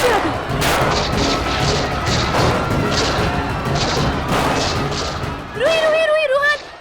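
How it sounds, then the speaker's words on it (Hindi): Dense, continuous gunfire and crashing impacts fill the scene, with chaotic noise throughout and a rising whistling tone near the end. "ये अचानक गोलियों की आवाज कैसे आ गई?"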